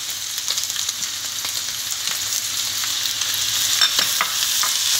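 Meat for bostan kebab sizzling in a pan as dry onion is added and stirred, a bright steady close frying hiss with occasional scraping ticks, growing slightly louder toward the end, no talking.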